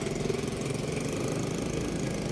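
A motorcycle engine runs at a steady low idle as the bike pulls over, a continuous rumble heard close by with no one talking.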